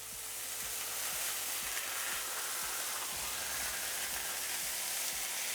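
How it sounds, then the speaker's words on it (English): Beef fillet searing in Cotswold butter in a pan on an electric stove gives a steady, loud, continuous sizzle and crackle with faint low pops throughout, no voices. "Okay, so I've seared my fillet."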